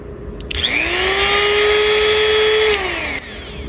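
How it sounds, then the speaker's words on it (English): Dremel 200 rotary tool spinning up and running at high speed for jewelry sanding, a loud steady high-pitched whine that rises at switch-on, holds for about two seconds, then winds down, with no talk. "So I use this Dremel 200. I'm always using it at the high speed. I'll show you what it looks like when it turns on."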